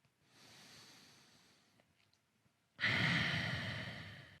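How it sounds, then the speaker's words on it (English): Deep breaths taken during a 10-minute stretching routine for recovery after deadlifts: a soft, airy inhale followed by a louder, fuller exhale that fades out slowly, close and alone. "One more breath."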